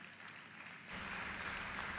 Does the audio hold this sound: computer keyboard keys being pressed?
no